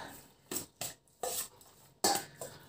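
Ingredients get stirred in a bowl with a utensil during home cooking, a few separate scraping and clinking strokes with short pauses between, close and fairly quiet, with no talking.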